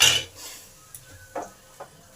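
A lid comes off a pan of gime shak greens cooking on the stove with one loud metallic clank, followed by a few faint taps and a quiet simmer.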